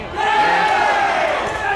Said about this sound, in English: if everyone heard the cheer on the other court